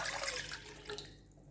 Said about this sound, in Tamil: ஒரு பாத்திரத்தில் ஒரு கிளாஸ் தண்ணி எடுத்திருக்கேன்